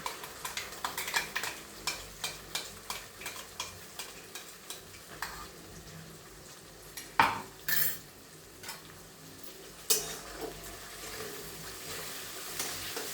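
Tomato, onion and cashew gravy sautéing in a pan for palak matar paneer, with a faint sizzle under quick repeated stirring and scraping of a spoon on the pan, a few louder clanks midway, and no talking.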